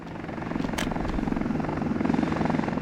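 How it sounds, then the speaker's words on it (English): A helicopter in the Soviet-republic building game Workers & Resources flies with a steady, loud rotor thrum and dense engine roar that builds slightly over a few seconds, with no talk. "the helicopters are working on the concrete as fast and quick as they can"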